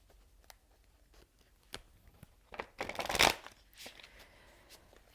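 Tarot cards riffle and slide through a deck in quiet, uneven papery bursts, peaking in one louder flurry near the middle before settling, with no talking.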